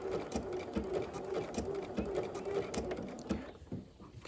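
Rapid, rhythmic stitching from a sewing machine blanket-stitching fabric on a camper, short bursts of needle chatter with brief pauses where the foot is lifted, fading near the end.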